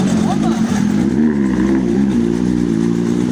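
Steady engine drone of motorcycles going by nearby in heavy rain, a continuous rumbling hum with slight rises in pitch, loud and close throughout.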